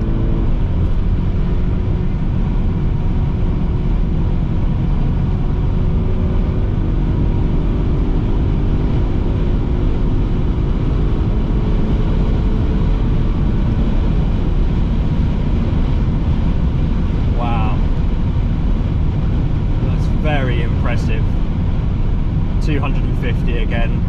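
Audi RSQ8 SUV cruising at speed on the road to the Nürburgring, a steady loud broadband drone of engine, tyre and wind noise from inside the cabin throughout, with a few brief clicks near the end.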